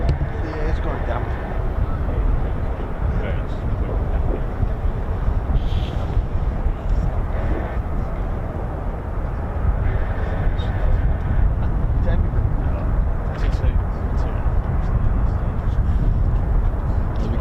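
Fighter jets such as F-15s and F-35s arriving at RAF Lakenheath on a damp day: a continuous broad jet roar rolling in from a distance, mixed with wind buffeting on the microphone and voices talking over it.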